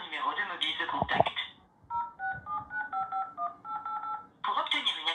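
A French automated phone service line carries a quick run of about ten keypad tones as a number is dialed, each a short, clear electronic beep. Recorded voice prompts come just before and after the tones.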